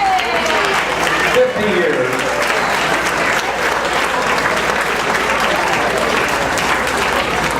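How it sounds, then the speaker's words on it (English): A room full of classmates at a 50-year high school reunion applauds loudly and steadily for several seconds, a dense wash of clapping with a brief spoken phrase near the start. "I want everyone in this room to give themselves a round of applause"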